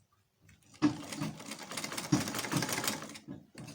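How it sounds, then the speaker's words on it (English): A sewing machine runs close by, sewing and back stitching a bodice seam in one continuous rapid clatter of stitches lasting a few seconds after a short quiet start. "Then you begin. Sew and back stitch."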